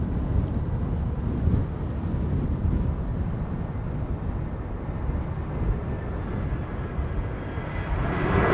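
A fixed-wing airliner roars overhead while landing at Amsterdam Schiphol Airport, a loud broad steady rumble with wind buffeting the microphone, filling the whole stretch and swelling slightly toward the end.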